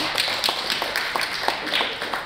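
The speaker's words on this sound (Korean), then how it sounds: "여러분 다시 한번 응원의 큰 박수 부탁드립니다" An audience at a health talk show on sleep apnea claps for a panel called onto the stage, steady applause from a crowd throughout.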